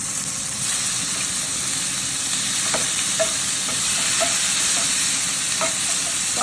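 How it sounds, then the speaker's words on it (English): A pan of tomatoes with spinach and kale sizzles and bubbles steadily, a loud, constant frying hiss with occasional soft pops and stirring scrapes close by. "I'm gonna let the tomatoes just simmer down a little bit"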